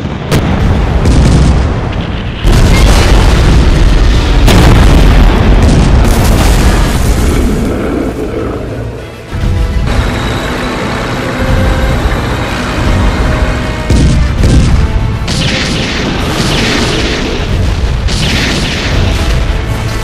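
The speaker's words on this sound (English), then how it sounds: "All units, open fire now." Heavy weapons fire and repeated explosions in a Godzilla film battle, loud booms and bursts packed densely throughout with a brief lull midway, no talk.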